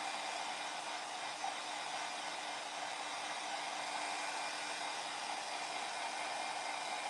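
A hair dryer runs steadily throughout, a constant whooshing hum of airflow with no pauses or other sounds.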